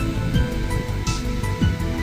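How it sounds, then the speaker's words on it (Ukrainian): Waterfall cascade in Ribeira dos Caldeirões park on São Miguel in the Azores, a steady broadband rush of falling water, continuous and close, with no talking. "І притул до самого каскаду, до водоспаду."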